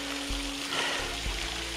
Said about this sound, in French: Regardez-moi cette petite cascade fontaine.